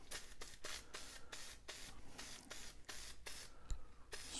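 3M Super 77 spray adhesive goes on in a rapid run of short, close, pressurized hissing bursts, about a dozen quick sprays with brief gaps, faint and with no talking.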